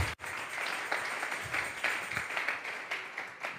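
A church congregation applauds, a dense, steady wash of many hands clapping at close range, continuing evenly with faint voices mixed in.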